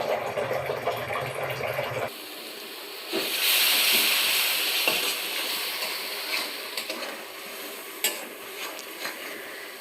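Vegetables frying and being stirred in a pan, a steady sizzling hiss with scraping stir strokes that swells after a quieter start, close by with no talking.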